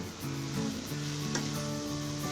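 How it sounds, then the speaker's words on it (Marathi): A spoon stirs a coconut, almond and sugar sweet filling in a pan over medium gas, giving a steady soft sizzle and scraping that runs the whole time at close range, with a faint tonal hum underneath. "हे एकदम चांगलं साखर विरघळेपर्यंत ते आपल्याला असं हलवून घ्यायचं आहे फिरवून"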